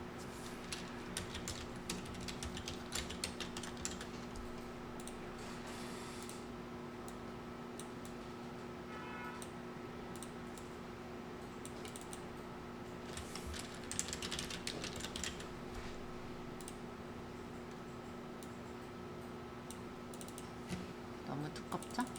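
Keyboard typing while text is entered in photo-editing software, a faint run of soft clicks under a steady low electrical hum, with no talking.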